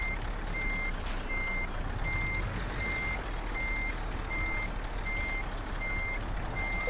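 A truck in Euro Truck Simulator 2 backs up, its reversing alarm giving nine or so evenly spaced beeps over a steady low engine rumble, moderately loud and without talk.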